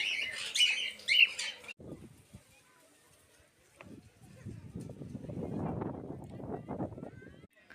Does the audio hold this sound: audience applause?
no